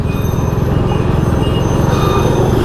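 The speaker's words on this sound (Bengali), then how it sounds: "toy train" The Darjeeling toy train passes close by on a hill road, a loud, steady rhythmic rumble of wheels and wagons that runs continuously and is heard alone.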